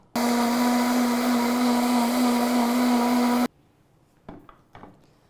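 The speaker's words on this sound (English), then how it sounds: "I'll just put the lid of the blender back on now and just mix it up on low speed" A blender mixing pancake batter whirs steadily at low speed for several seconds, loud and even, then cuts off, followed by a few faint clicks and handling sounds.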